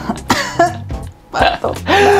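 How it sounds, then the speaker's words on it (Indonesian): A few short, sharp coughs and throat-clearing bursts close up, broken by brief pauses and a bit of vocal sound. "Batuk."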